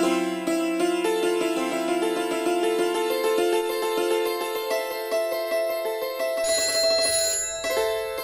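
A telephone rings in a home with a repeating electronic melodic tone, loud and steady for several seconds before cutting off near the end.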